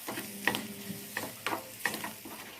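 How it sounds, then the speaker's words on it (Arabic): Chopped beef lung browning in a hot pan, soft sizzling under several sharp clinks and scrapes of a spoon stirring the pieces, fairly quiet and close. "هشوح فيها كده شوية تاخد بس لون تتحمر معايا"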